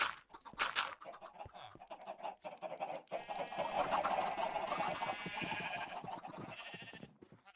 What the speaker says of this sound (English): There's chickens everywhere now